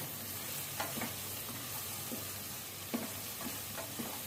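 Spice powder for bisi bele bath dry-roasting in a pan, a steady soft hiss broken by a few scattered scraping stirs close by, with no voices.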